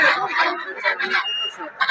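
A male Chinese duck at a poultry market honks in a run of loud, close, nasal calls, with talk mixed in among them.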